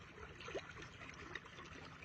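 Water flows steadily from a pipe into a rice paddy in rural Thailand, a low, continuous trickling and gurgling wash at modest level with a couple of faint splashes, no speech.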